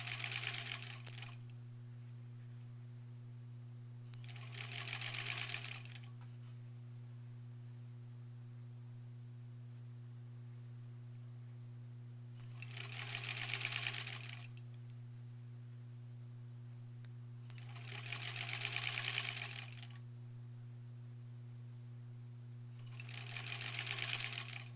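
Sewing machine stitching quilt border pieces for a granny squares quilt, four bursts of rapid whirring spaced by pauses, all over a constant low electrical hum.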